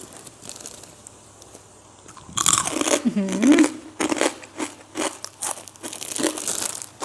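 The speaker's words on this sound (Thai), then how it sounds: "เดี๋ยวขอแบบ ซิมแคปหมูที่ตัวเองเจียวเองก่อนนะคะ น่าจะกรอบแบบฟันหลุดไปเลย" Home-fried crispy pork cracklings being bitten and chewed up close, a run of sharp, loud crunches and crackles after a quieter start, with a voice briefly heard.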